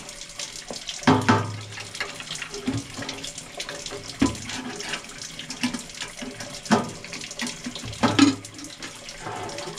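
Tap water runs into an empty paint bucket in a paint shop as it is rinsed out, with a steady gush and splashing plus several louder knocks and sloshes as the bucket is handled, close and alone.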